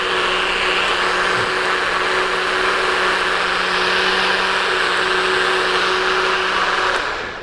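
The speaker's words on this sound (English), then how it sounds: "So I'm going to blend this until I can't see any more of the particles." A NutriBullet blender runs for about seven seconds as one steady, close whir with a constant low hum. The motor cuts off at the very end, and no one talks over it.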